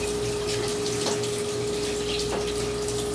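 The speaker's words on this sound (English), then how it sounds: "fill it up with some water, pour it in with my rice, and begin washing my rice" Water pours into a bowl of rice being rinsed for sushi, a steady continuous splashing gush close by with a constant hum underneath and no talking.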